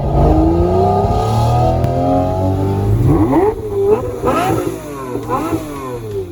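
A powerful Lamborghini V12 engine revs up and down, its pitch sweeping through several rising and falling swells, loud and close with no talking.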